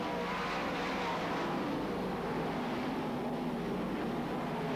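Sprint cars race around Premier Speedway in the 1994 Australian Sprint Car Championship, a continuous loud roar of several engines blending into a steady drone from across the track.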